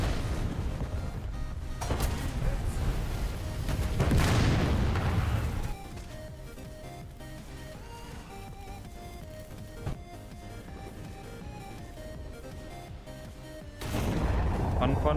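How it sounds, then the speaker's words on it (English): Enemy bombing in a video game batters the area with loud, close booms in the first six seconds, then quiets to a low hum with scattered pops before another blast surges at the end; speech is faintly mixed in. "Enemy's bombing me."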